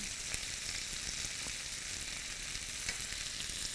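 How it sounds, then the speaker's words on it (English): A steady, soft sizzle and bubble from a pan on the heat, continuous and close, with occasional faint clicks and no speech. "we have some apricot jam or apricot preserves in our pan, and we're just heating that up"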